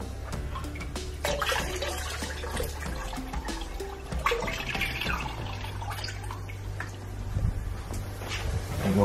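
Tap water pours steadily into a jug, a continuous rushing, splashing flow with a deepening tone as the jug fills, heard close up with small bumps and clatters around it.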